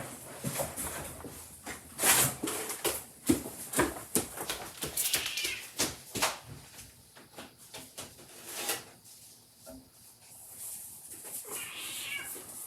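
A domestic cat meows repeatedly indoors, several short, fairly close calls spaced irregularly among rustling and handling noises, with a longer drawn-out meow near the end.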